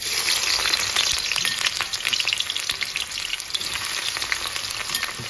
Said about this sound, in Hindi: ये सारी प्याज का मैं इसमें बघार लगाऊंगी।